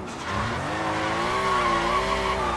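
In the video game Sleeping Dogs, a car's handbrake is pulled into a skid, producing a loud, sustained tire squeal with a steady wailing pitch that holds for a couple of seconds.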